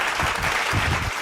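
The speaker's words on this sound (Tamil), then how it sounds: "கைத்தட்டுங்க ஒருத்தவருக்கு." A church congregation claps together, a dense burst of hand clapping that fills the short moment at steady volume.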